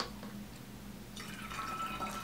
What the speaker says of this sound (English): Be adding more water.